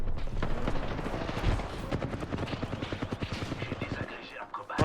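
Rapid bursts of automatic gunfire in the battle royale video game Apex Legends, steady rattling shots over several seconds, loud and dense, with a player talking over the game audio.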